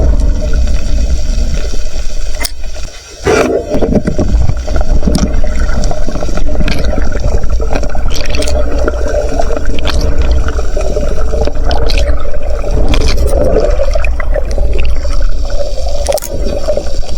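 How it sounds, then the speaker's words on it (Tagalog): A strong water current rushes and gurgles loudly and steadily up close, a dense continuous roar with splashy bumps throughout and no speech. "Grabe pagkalakas ng agos."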